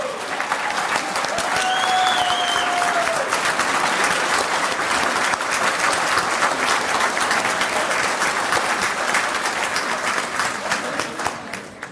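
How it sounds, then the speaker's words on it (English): A standing ovation fills a drag racing banquet hall, with sustained dense applause from a large crowd that holds steady for the full stretch before easing slightly at the end; a faint whistle rises briefly through it. "Come to your feet and give these girls a standing ovation for everything they do."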